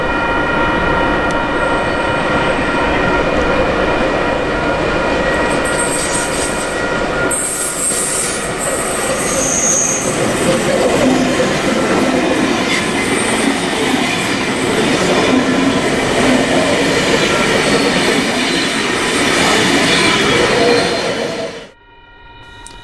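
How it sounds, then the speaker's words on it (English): A Horizon container train bound for Brisbane passes a small station, its loud, continuous rumble of wagons and wheel squeal filling the scene at close range before cutting away abruptly near the end. "Horizon's Brisbane-bound container train was right behind."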